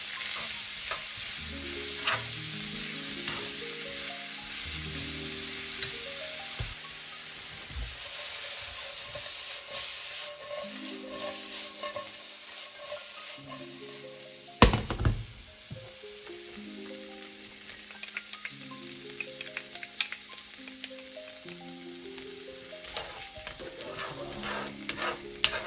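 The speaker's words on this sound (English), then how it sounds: "Add the onion into the pan, give it a stir, let it soften and take on that oil." Onion and later garlic frying in an oiled pan for chorizo tomato rice, a steady close sizzle broken by repeated scraping stirs and occasional clatters, with music playing underneath throughout.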